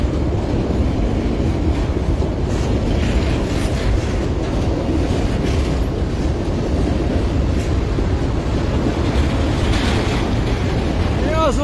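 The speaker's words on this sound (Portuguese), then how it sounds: "Aí tá o Z13, o trem da sorte." A RUMO Z13 distributed-traction freight train rolls past in Santa Maria, Rio Grande do Sul, with a loud continuous roar and clatter of wheels on rails close by, steady throughout, with brief distant voices.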